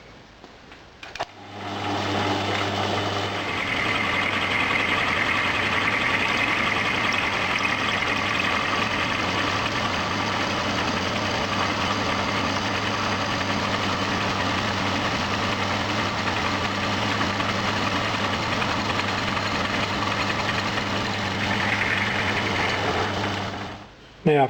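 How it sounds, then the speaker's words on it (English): Steady machining whir of a mill cutting the cast iron base of a model DC generator motor, a continuous even drone running for over twenty seconds with a faint higher cutting hiss. "I'm now milling the base of the motor so it'll sit flat and even on other surfaces."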